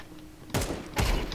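Gunshots in Counter-Strike during a headshot kill: two loud, sharp bursts about half a second apart, each trailing into a short rumbling decay, with no talking.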